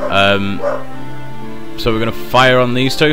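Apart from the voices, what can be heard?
dog barking at the door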